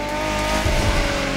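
A race car in TC Motorfest slides with tires squealing over a loud engine drone, a short sustained skid with tonal whine and low rumbling bursts near the end.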